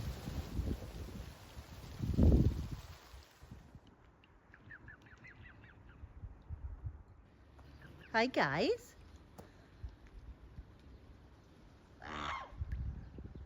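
Ducks quack and honk in short bursts at a moderate distance by a canal, with a few spoken words early on amid quiet outdoor ambience.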